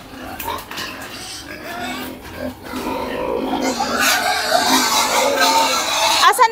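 Pigs on a farm grunt and oink repeatedly while two people carry them, the squeals and grunts rising in a busy, continuous stream, with voices murmuring in the background.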